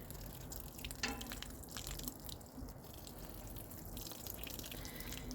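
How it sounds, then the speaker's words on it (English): Rainwater poured onto a potted begonia, a soft, continuous trickle and splash of water soaking into the soil, heard close and quiet throughout. "I'm going to go ahead and water it in."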